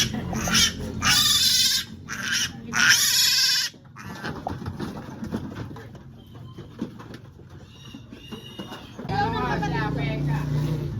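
Piglets squeal loudly and shrilly while being caught, harsh bursts of cries up close at the start and again at the end, with people talking in between.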